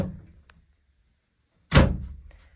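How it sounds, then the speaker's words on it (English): The walk-through door of a 2005 Bee 3 horse trailer swings shut with a single solid, close thunk after a moment of near silence, then a short fading rattle. "Walk-through door."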